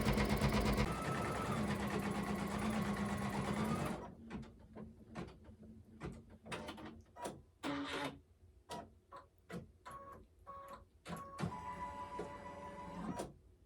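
A Stellaire, Altair or Meridian quilting machine running edge-to-edge quilting: a steady mechanical whir for the first four seconds, then a string of short clicks and taps with brief motor bursts, ending in another sustained run.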